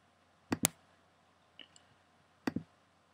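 Computer mouse clicks come in close, crisp pairs, with a double click, a faint tick, then another double click, in a quiet room.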